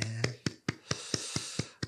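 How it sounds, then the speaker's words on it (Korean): A church congregation claps in a sharp, steady rhythm, about eight claps in two seconds, fairly close and distinct with quiet gaps between them. "박수하겠습니다"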